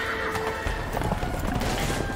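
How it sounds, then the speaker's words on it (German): A horse whinnies amid the quick clatter of hooves, fairly close and loud, with a busy, noisy background. "die arme Pferd"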